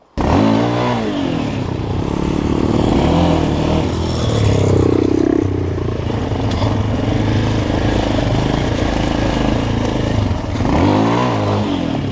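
Motorcycle revving loudly up close and pulling away on loose ground, a rough clattering engine that swells in pitch and stays strong, likely a 250 cc off-road bike.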